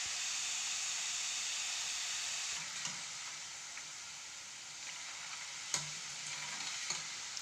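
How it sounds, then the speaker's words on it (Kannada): Jackfruit chips frying in coconut oil give a steady, close sizzle and hiss throughout, with a few faint clinks of stirring on top. "ಇಲ್ಲಿ ನೋಡಿ ಚಿಪ್ಸ್ ಮಾಡೋಕ್ಕೆ ಶುರುವಾಗಿದೆ ಚಿಪ್ಸ್ ಮಾಡ್ತಾ ಇದ್ದಾಳೆ ಕೊಬ್ಬರಿ ಎಣ್ಣೆಲಿ ಮಾಡೋದು"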